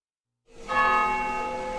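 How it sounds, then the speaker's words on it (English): A church bell for the noon Angelus strikes once after a moment of silence, a loud, resonant toll ringing out and slowly decaying. "When you hear the noon bells tolling, it's time for Angelus"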